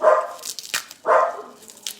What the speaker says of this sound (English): the next thing you know, they're barking